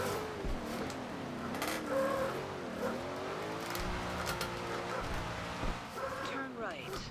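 A Chevrolet Corvette drifting in Forza Horizon 2, its engine note rising and falling with wavering revs and tyre squeal, running continuously under talk.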